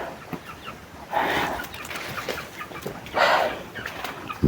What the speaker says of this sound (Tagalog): Ang dami mga manok dito na ihalas ko tawagin sa amin.